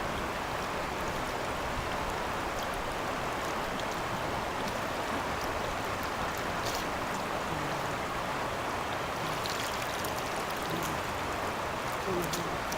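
A river runs steadily at Dholarghat in Nepal during a fishing trip, a loud, unbroken rushing wash of water close by that fills the whole stretch.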